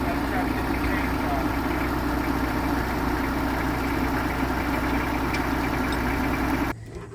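A homestead tractor's engine idles steadily nearby while a 400-pound cast iron wood burner is moved, a constant low rumble with vibration that cuts out abruptly at the end, with people talking over it.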